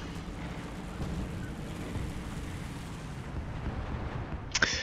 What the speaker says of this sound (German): die knallen hier die ganze Zeit Artillerie raus